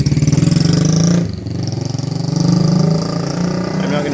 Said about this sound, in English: You hear a lot of this moped noise all the time.